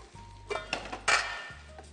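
Metal pan clattering as it is shifted aside and set down on a kitchen stove to heat oil, a few distinct clanks and scrapes close by with a brief hum between them.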